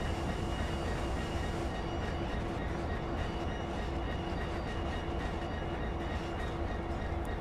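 A Class 66 diesel freight train in Train Sim World rumbles along steadily with a low, continuous drone and faint rhythmic clatter, holding a constant level throughout.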